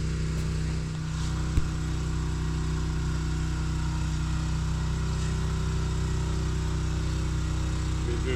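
A gas backpack leaf blower engine, a ProRun PBB3000 or an Echo PB9010, runs steadily with a constant mid-pitched drone and a low hum throughout, close and unbroken, with one brief click partway through.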